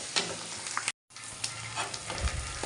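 Parotta frying in a pan with curry leaves, a close hissing sizzle with intermittent stirring scrapes and a short silent break, no voices.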